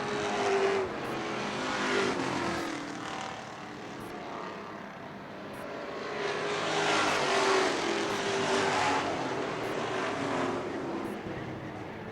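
A race car engine roars on a dirt oval during a Super Street feature, sustained and fairly loud with swelling passes as cars go by, under an announcer's continuous commentary.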